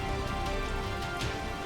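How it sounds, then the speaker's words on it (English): Steady rain falls in a Pokémon Red game, a continuous even hiss with no breaks and no voices over it. "It's raining."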